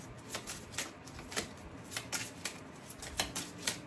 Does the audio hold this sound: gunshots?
no